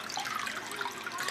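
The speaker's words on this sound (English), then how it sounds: "I'm adding about 300 to 400 milliliters of water" Water, roughly 300 to 400 millilitres, poured into a pot over grated garlic and ginger, a continuous splashing trickle, close and steady, with no talking.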